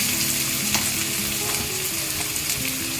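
Carrot and beans fry in a pan for upma, giving a loud, continuous sizzle with occasional stirring scrapes and light clinks close by.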